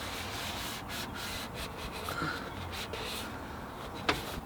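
Blue paper roll wipes off excess rust prevention treatment on the bodywork of a T2 Bay van, a continuous close rubbing and scuffing with one sharp tap near the end.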